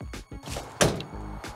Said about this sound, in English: Solid bus door sound.